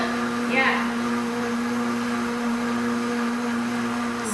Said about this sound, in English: This is Shay's favorite appliance, the blender